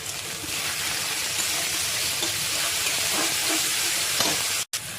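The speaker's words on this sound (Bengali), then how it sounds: "এবার আমি টমেটো কুচি দিয়ে দেবো। দেখো টমেটো দিয়ে দিলাম।" Chopped tomato hits hot oil in a frying pan with onion and garlic for a fish-head moong dal, giving a loud continuous sizzle and hiss with a few faint clinks.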